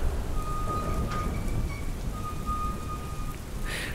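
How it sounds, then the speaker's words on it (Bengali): Heavy monsoon rain pouring down steadily at night in a village, a dense close hiss with a low rumble of thunder underneath, continuous and without voices. "বৃষ্টিটাও বেশ মুষলধারে নেমেছে।"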